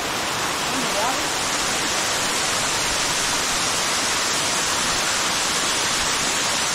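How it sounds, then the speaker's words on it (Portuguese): A large waterfall in Amélia Rodrigues, in the interior of Bahia, roars as a steady, dense wash of falling water, loud and unbroken throughout. "Linda cachoeira. É grande."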